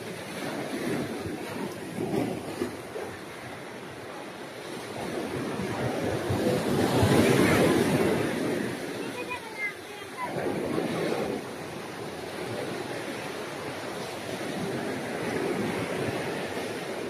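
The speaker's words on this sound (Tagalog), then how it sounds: "Nabasa ako, lakas ng alon doon." Strong ocean surf at Caramoan Island in the Philippines rolls and crashes in rising and falling swells, mixed with heavy wind buffeting the microphone, one wave building to a loud peak midway.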